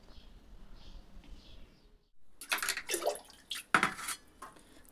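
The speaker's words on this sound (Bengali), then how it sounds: "চালটা ভিজিয়ে দেই।" Rice being soaked in water in a home kitchen, with close clinking of a pot and splashing water in short bursts after a quieter stretch of faint background clatter.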